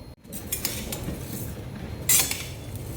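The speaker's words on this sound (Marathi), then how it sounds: "हे बघा असं आपल्याला एकसारखं हलवत राहायचे आहे" Grains roasting in a pan on low flame for thalipeeth bhajani, being stirred: close scraping and metallic clinks of a utensil against the pan, continuous, with no voices.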